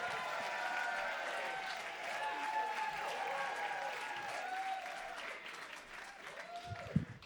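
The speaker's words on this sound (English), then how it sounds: "Can we get the applause going?" A comedy club audience applauds steadily with some cheering, a dense wash of clapping that holds for several seconds and thins slightly toward the end.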